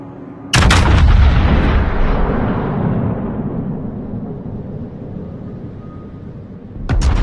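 A heavy battleship salvo from a naval combat game booms out loud and near, its deep roar rolling and slowly fading over several seconds before another blast erupts at the end.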